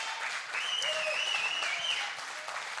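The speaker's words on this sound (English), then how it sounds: "please give them a round of applause" A round of applause from an audience after a performance, a steady dense wash of clapping lasting a few seconds at moderate distance, with a faint voice or whistle riding over it.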